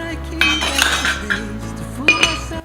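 Sodium carbonate is scooped into a bowl with metal utensils, making bright clinks and scraping clatter in a few quick bursts, close and clear with no talking.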